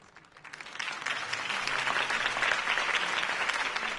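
A crowd in the Batman Telltale video game breaks into sustained applause after Harvey Dent's campaign speech, the clapping swelling within the first second and holding dense and steady.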